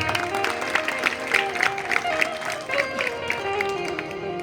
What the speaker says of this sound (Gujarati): બાળકોને તાળીથી વધાવો.